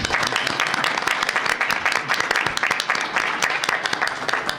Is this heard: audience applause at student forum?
yes